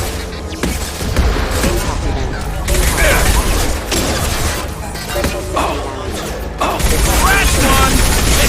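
Heavy gunfire in the Mass Effect video game, a dense continuous barrage of shots, booms and mechanical clatter, loud and close throughout, with voices calling out between bursts.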